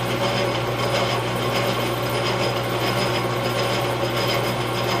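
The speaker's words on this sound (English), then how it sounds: "You can take the file real easy." A hand file scrapes lightly across a part spinning in a lathe chuck during a Farmall 450 valve job, a steady, loud, gritty mechanical rasp over constant machine hum, continuous and without speech.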